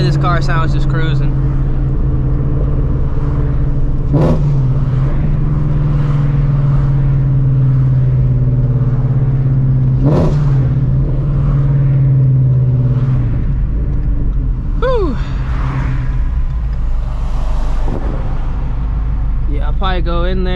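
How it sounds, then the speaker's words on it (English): A Shelby GT350 cruises at low speed, its V8 giving a deep, steady exhaust rumble heard from inside the car, rising briefly in a few engine swells, while a person talks over it intermittently. "Love the way this car sounds just cruising."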